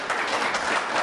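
A short burst of steady clapping from an audience, even and moderately loud throughout.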